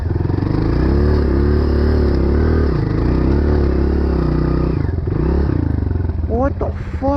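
A dirt bike rides over storm-damaged ground, a loud close engine drone rising and falling in pitch as it revs, with clattering and talk over it.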